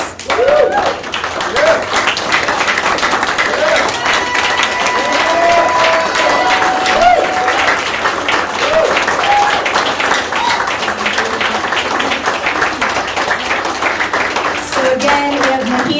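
Sustained audience applause at a gala soiree, dense steady clapping from a large crowd, loud and continuous with scattered cheers.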